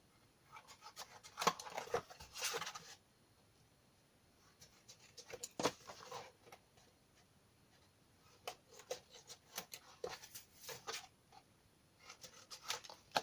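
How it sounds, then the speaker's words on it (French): Scissors snipping the corners of paper for a correspondence kit, a few quiet clustered cuts and rustles separated by pauses, close up and faint, with no talking. "Donc, je viens couper mes angles."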